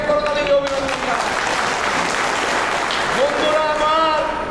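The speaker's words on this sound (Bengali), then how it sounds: "আমরা তাকে করতালি অভিনন্দন জানাই" An audience at a political rally applauds a speaker, with dense continuous clapping and a voice at times over it, close and loud throughout.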